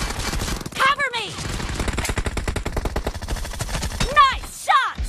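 PUBG Mobile gunfire in an arena match, sustained fast automatic shooting that rattles on with few gaps, loud and close, while brief voices speak over the shots.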